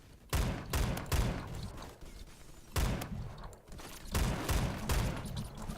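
AUG H-bar automatic rifle fire in Roblox Phantom Forces, loud close bursts of rapid shots in three or four separate volleys with short pauses between, no talk over them.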